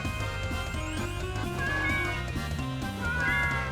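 Cats in the video game Deltarune meowing as they are petted, a run of tonal, sliding meows in quick succession over steady game music, with no voices.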